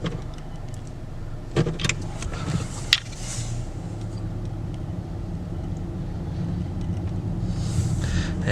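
A 2019 Honda Accord EX drives through a dark neighborhood at night, a steady low cabin rumble of engine and road noise with a few faint clicks and bumps inside.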